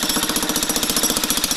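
Power tools running at a construction site where women volunteers work with picks, shovels, brushes and drills: a loud, fast, steady mechanical hammering rattle that pulses evenly throughout, close by and without voices.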